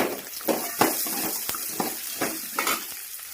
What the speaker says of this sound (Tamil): இப்போ வெங்காயம் சேர்த்து நல்லா வதக்கிடலாம்.